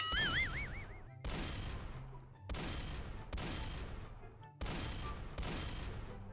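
Repeated bursts of gunfire ring out in the Roblox game Dead Rails as long-range shots are fired at approaching enemies, several sharp volleys separated by brief gaps.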